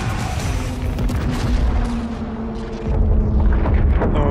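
A loud booming explosion in the video game Evolve rolls on as a dense, rumbling blast, swelling again toward the end.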